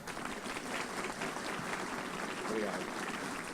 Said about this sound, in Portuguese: eu queria uma salva de palmas para o Mário